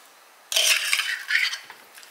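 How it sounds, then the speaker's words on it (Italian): Cucumber salad is poured from a bowl into a serving dish, giving a soft wet slide and light clatter of the dish lasting about a second, then a second shorter burst, close and fairly quiet with no talking. "Versiamo in un piatto da portata"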